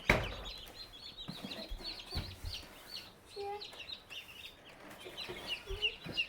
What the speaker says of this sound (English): Chicks coming out of the incubator.